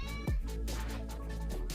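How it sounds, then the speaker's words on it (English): A house cat gives a single short meow, close and clear, over a steady background hum. "I'm sorry, that was my cat."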